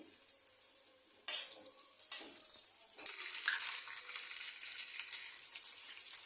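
Okra sizzling as it is added to hot oil in a pan for Telangana-style bendakaya pulusu, with sharp bursts of frying followed by a steady, fairly loud crackle.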